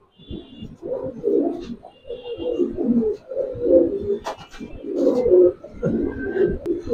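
A young pair of Giribaz pigeons of the Palla line, male and female, coo nearby with soft, throaty, rolling calls that continue with few breaks, joined by a few brief higher chirps.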